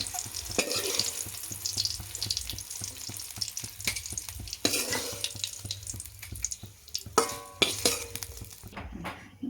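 Oil crackles and sizzles steadily in a pan, with scattered sharper pops and a few clinks of a utensil close by.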